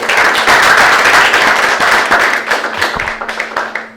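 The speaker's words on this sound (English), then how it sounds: "Round of applause." Audience applause following a talk at a real estate association event, a dense sustained wash of many hands clapping that thins toward the end as individual claps stand out.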